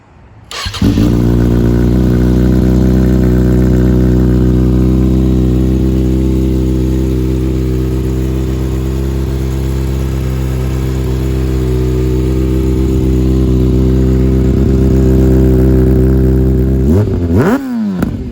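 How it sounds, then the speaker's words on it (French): A Kawasaki ZX6R 636 sport motorcycle starts close by and holds a loud, steady high idle for most of the clip, ending with a quick rising rev. "Est-ce que tu peux me démarrer cette belle?"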